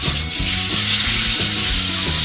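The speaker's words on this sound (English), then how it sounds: "You hear that sizzle" Steak sizzles loudly in a hot pan of olive oil, a dense, steady crackle heard up close, with a faint low hum of music underneath and no talking.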